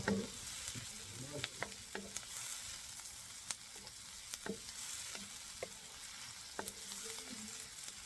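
Onions sautéing in a pan for Filipino sautéed bottle gourd, a steady sizzle with repeated clicks and scrapes of stirring, close and moderately loud, no talking.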